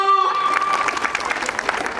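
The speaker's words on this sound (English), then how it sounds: "She deserves a huge round of applause. Please put your hands together for Harshita." Applause from an International Women's Day audience for a performer named Harshita, a dense steady patter of many hands following a brief held tone at the start.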